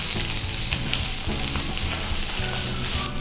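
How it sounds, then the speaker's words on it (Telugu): Ginger pieces frying in a pan for chutney, a steady loud sizzle with stirring scrapes running throughout, close and uninterrupted. "అల్లంను ఒక్క నిమిషం వేగనివ్వాలి."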